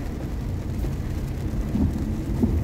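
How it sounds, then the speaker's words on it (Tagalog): A steady, dense wash of rain noise in Kuwait, with a low rumbling undertone and a few faint knocks near the end. "Umuulan dito sa Kuwait."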